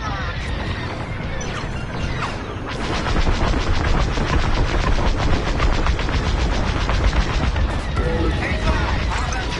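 Starfighter laser cannons fire in the space combat video game Star Wars Squadrons, a rapid, dense string of loud blasts that grows heavier after the opening seconds and mixes with explosions and radio-style voices.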